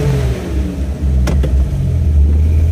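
A car engine with a 60mm throttle body runs loud and rough nearby, a heavy uneven rumble with a brief dip around the first second and a couple of sharp clicks before settling back into a steady drone.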